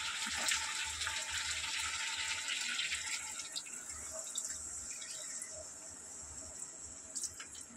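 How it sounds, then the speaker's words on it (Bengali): Water poured into a pan of spiced potatoes during cooking, a faint, steady trickling splash heard alone at low volume. "এবারে আমি ফাইনালি জল দেব, জল বেশি দেবো না"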